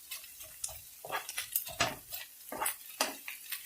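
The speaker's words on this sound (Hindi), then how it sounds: "जस्ट हम इसको सौटे ही करेंगे।" Hash brown filling sautéing in vegetable or olive oil in a pan, heard as close, irregular scraping and clinking of a utensil against the pan with light sizzling underneath, no talking.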